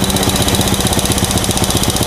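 A Honda Supra motorcycle engine, checked for a suspected leaking valve, runs at a steady, loud, close-up mechanical thrum with an even, rapid pulsing beat throughout.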